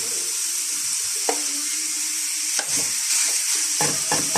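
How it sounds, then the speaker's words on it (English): Pork frying without added fat in a non-stick pan: a steady, loud sizzle runs throughout, with a few brief utensil scrapes and taps, close up and without talking. "So we're just going to fry that off till it's all nice and sealed"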